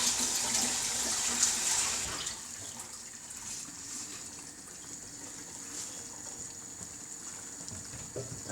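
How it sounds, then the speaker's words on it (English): Tap water runs steadily while hands are washed in a home kitchen during chilli cooking, a loud gushing stream at first that settles into a softer, continuous flow. "Give your hands a quick wash."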